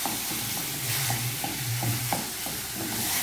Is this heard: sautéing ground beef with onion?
yes